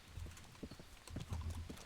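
Horse hooves clip-clop in a quick, steady rhythm in the video game Kingdom Come: Deliverance, close and fairly soft, with a faint background hum.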